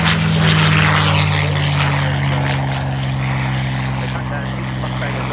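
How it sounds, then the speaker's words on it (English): A P-47 Thunderbolt propeller fighter takes off at the RAF Cosford air show, its loud, steady engine drone holding throughout with a strong low hum while an announcer talks over it. "Taking off is the P-47 Thunderbolt."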